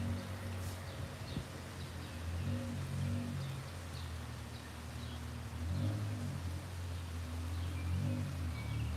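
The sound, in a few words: rain falling outdoors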